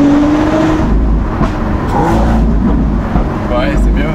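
Lamborghini Aventador SVJ with a Gintani-tuned V12 engine revving around 3500–4000 rpm from inside the cabin, a loud continuous drone with a low rumble underneath, while people talk over it.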